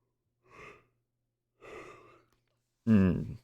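Three breathy vocal exhalations spaced about a second apart, the last one louder and more voiced, like a yawn from a person sitting at a trading desk.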